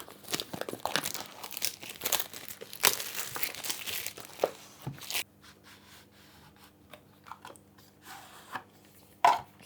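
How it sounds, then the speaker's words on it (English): A USB-C cable's packaging is unboxed at close range: loud crinkling, tearing and rustling of paper and plastic for several seconds, then quieter scattered handling clicks and a final sharp rustle, with no talking. "And let's unbox those items. Let's start with the USB-C cable."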